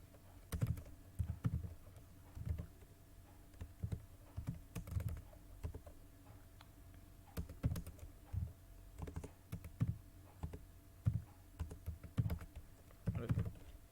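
A computer keyboard is typed on steadily while writing Rust code, soft clicking keystrokes in short irregular bursts with brief pauses over fourteen seconds, quiet and close, with no one talking.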